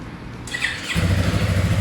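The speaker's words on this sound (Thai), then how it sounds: "เดี๋ยวฟังเสียงเครื่องยนต์เลย" A 2016 Yamaha R3 motorcycle engine turns over and settles into a steady, close rumbling run inside a shop, loud and alone over about two seconds.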